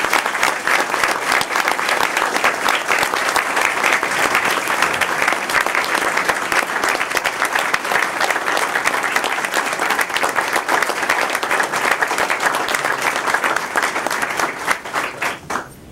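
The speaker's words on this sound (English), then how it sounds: "a round of applause for the sacrifice" Sustained audience applause at a school district board meeting, a dense, steady wash of many hands clapping at close range for about fifteen seconds before thinning out at the very end.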